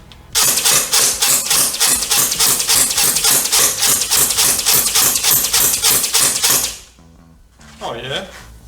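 An LDT MP7 gel blaster fires a fast, evenly spaced string of loud mechanical clacks for several seconds, then stops; a brief voice follows afterward.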